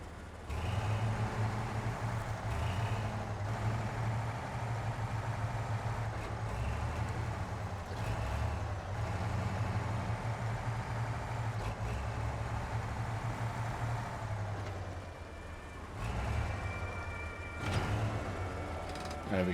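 A truck engine idles in the off-road driving game SnowRunner, a low steady rumble that holds for most of the stretch, then cuts briefly and resumes, with no talk over it.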